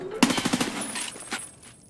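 A TOZ shotgun fires in Escape From Tarkov: a loud close blast with quick echoing reports, then a softer second shot about a second later.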